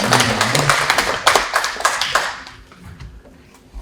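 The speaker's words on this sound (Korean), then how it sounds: "박수 한번." Audience applause at an academic conference on a historic mountain beacon site, a burst of many hands clapping densely at first, then thinning out and fading toward the end.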